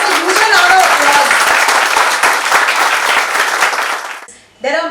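A university inauguration audience applauds in a dense, loud burst of clapping lasting about four seconds before fading, then a voice begins speaking.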